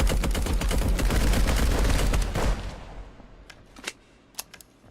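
Rapid automatic gunfire from a pirate video game crackles in a dense, loud burst for about two and a half seconds, then breaks off into a few scattered, sharper single shots and clicks.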